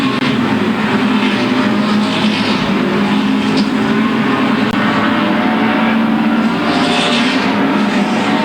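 Late model race cars roar around Louisville Motor Speedway, a dense, continuous engine howl from the pack holding loud and steady throughout, with no voices over it.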